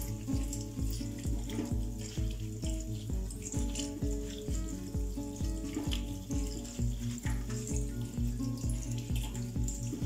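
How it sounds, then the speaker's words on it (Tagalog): Tap water runs steadily over shirataki noodles being rinsed in a kitchen, giving a continuous splashing, rushing flow with a fine fluttering texture and no talk. "Then, wash lang po natin siya sa running water."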